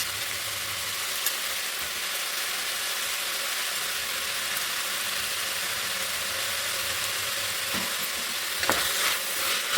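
Fresh green peas sautéing in a pan for veg pulao, a steady, close sizzle and hiss with occasional light stirring scrapes and clinks, no voices.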